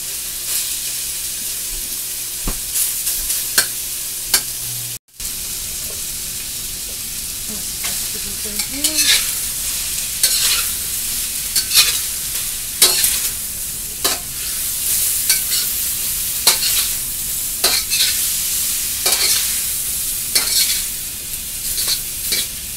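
Chicken for a teriyaki stir fry sizzles steadily in a hot pan, with a spatula clacking and scraping at intervals and one sharp cut in the sound; no talking.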